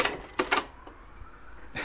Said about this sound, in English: So when I turn it on like this, it just clicks on and will sew like this.